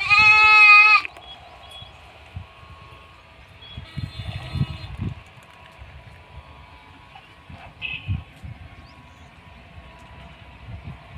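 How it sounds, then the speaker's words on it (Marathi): A single loud bleat from a native Indian milk goat opens, followed by quiet shuffling and faint background noise with no further calls, on a goat farm. "बघा, लहान शेळ्या येतात, गावरान शेळ्या येतात"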